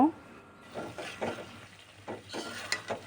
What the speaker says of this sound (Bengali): তো এখন আমি মিশিয়ে নেব ভালো করে এই পেঁয়াজগুলোকে মাংসের সাথে।